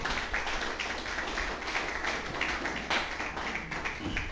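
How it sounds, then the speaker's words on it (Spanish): Dense, continuous clapping from a church congregation, steady and sustained throughout, with no voices standing out. "Denle un fuerte aplauso al Señor entonces."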